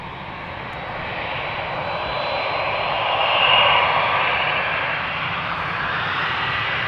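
A seven-year-old Boeing 787-9 Dreamliner starting its takeoff roll on the Polderbaan at Amsterdam Schiphol, a loud, sustained jet engine roar that swells toward the middle and holds steady, with no voices.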